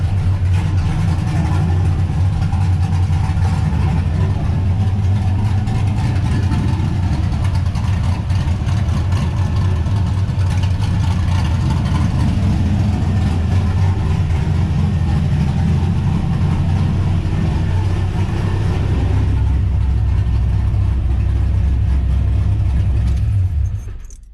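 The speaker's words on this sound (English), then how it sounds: "Figured I'd give you one more idle clip before I shut it off." A cammed LS engine idling in a 1969 Camaro, a loud, deep, uneven lumpy rumble that holds steady close by for the whole stretch before cutting off at the end.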